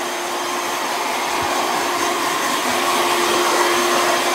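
A hair dryer blows steadily on a man's wavy hair after a haircut, a loud, continuous close-up whoosh with a constant motor whine and no break across the whole stretch.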